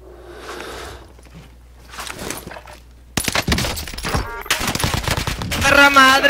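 Video game gunfire erupts in rapid, loud automatic bursts that rattle repeatedly through the second half, after quieter scuffling and a voice at the start.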